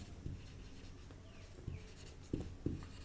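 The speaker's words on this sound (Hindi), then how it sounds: "अगली लाइन से लिखेंगे द्विध्रुव" Soft scratching and tapping of a pen writing out the next line of a physics derivation on electric dipoles, quiet and close, with a few sharper taps between strokes.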